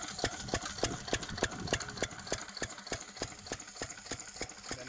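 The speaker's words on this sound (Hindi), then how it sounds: "फील्ड मार्शल का इंजन है" A Field Marshall 8 hp diesel farm engine runs at a field, giving an even, evenly spaced chug of about three thumps per second, steady and moderately close.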